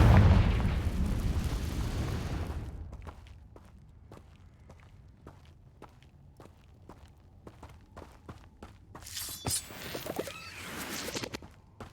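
The Confringo spell in Hogwarts Legacy lands as a loud, broad explosive blast that fades over about two seconds, followed by a quiet stretch of steady footsteps and a later crackling flare.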